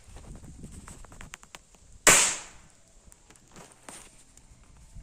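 A toy gun fires once with a sharp, loud pop that rings out briefly, preceded by soft shuffling and handling noises and followed by faint rustling.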